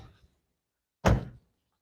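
A single solid thunk as the door of a 2022 Kia EV6 Long Range AWD is worked with one hand, one short loud burst after near silence.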